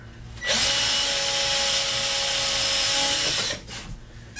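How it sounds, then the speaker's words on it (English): A close power drill boring holes in a 50cc ARF model airplane build starts abruptly, drones at a steady high pitch for about three seconds, then stops, leaving faint room noise. "And I drill them out."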